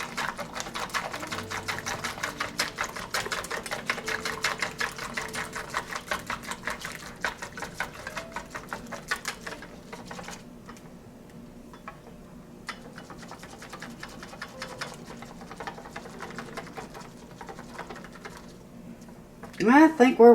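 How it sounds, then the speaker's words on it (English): Eggs being whipped until smooth for a freeze-dried egg dish, giving a fast, rhythmic clicking of a whisk against the bowl that later slows and thins, with some talk. "I'm going to keep whipping this until it looks like it's pretty smooth."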